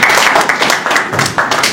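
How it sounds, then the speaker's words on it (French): Audience applause at a Paris press conference for Werrason, dense steady clapping from many hands filling the room, loud and continuous with no talk over it. "Est-ce qu'on peut applaudir s'il vous plaît?"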